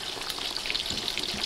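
Steady, close sizzling and crackling of sausages frying in a hot pan, with no voices.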